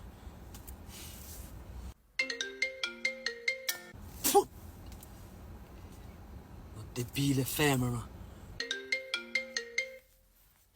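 A mobile phone plays a melodic ringtone in repeated bursts, fairly close, interrupted by a voice and brief loud noises in between.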